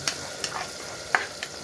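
Chopped tomato frying in a pan for a Gujarati govar and potato sabji, a soft steady sizzle broken by a few sharp stirring scrapes at close range.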